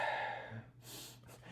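A voice imitates heavy, Darth Vader-like breathing into a phone, a short raspy inhale followed by breathy exhales, close and quiet.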